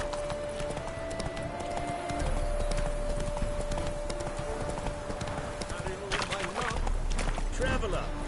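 Geralt's horse Roach gallops in The Witcher 3, with steady rhythmic hoofbeats running through the whole stretch under game music and ambience, and voices talking over it.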